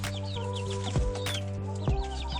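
Chickens and chicks cluck softly in a coop while pecking at feed, close and quiet, with a steady hum beneath and a few brief thumps.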